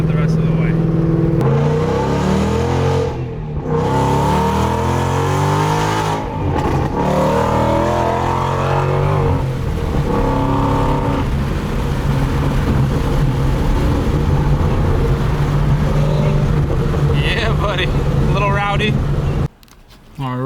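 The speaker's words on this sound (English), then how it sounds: "I'm driving the Mustang one last time on 91" A Ford Mustang cruises on a highway, its steady engine and road drone loud and continuous from inside the car for about twenty seconds, with a voice talking over it.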